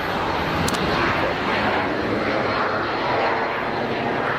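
Loud, steady roar of a United airliner taxiing at Geneva Airport, a continuous broadband engine rumble heard close and without pause.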